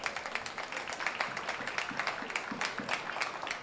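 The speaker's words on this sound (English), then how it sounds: "So a round of applause for both teams." Crowd applause rings out for both teams after an under-16 championship cup football match on a warm, sunny day, steady scattered clapping from a modest crowd heard at a distance.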